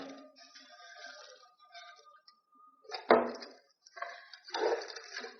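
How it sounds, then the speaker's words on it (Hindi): Bread chunks are dropped into caramel sauce in a pan, giving a few close, light clinks and a scraping clatter of utensil against metal, with quiet gaps between; no one speaks. "अब इसमें ये जो ब्रेड के चंक्स हैं वो डाल देते हैं।"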